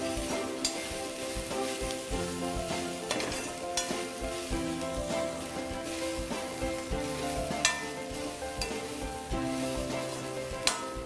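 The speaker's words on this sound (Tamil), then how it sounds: "சிக்கனை போட்டு, சிக்கனையும் போட்டு நல்லா வதக்கிடும்." Chicken sautéing in a pan for cutlets, a steady close sizzle running throughout with repeated scraping and stirring clatter, no voices.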